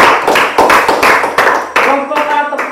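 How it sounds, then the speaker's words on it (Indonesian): A seventh-grade class claps in several sharp, separate bursts of group hand clapping, each bursting out loudly and then fading, with brief talk in between. "Tepuk tangan buat kalian semua."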